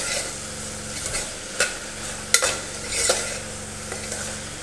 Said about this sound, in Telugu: దీంట్లోకి 1/2 టేబుల్ స్పూన్ అల్లం వెల్లిపాయ పేస్ట్ కూడా వేసేసి బాగా మిక్స్ చేయాలి.